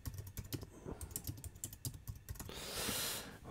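Typing on a computer keyboard, a quick, irregular run of close key clicks for a few seconds, then a brief burst of broad hiss at the end, with no talking.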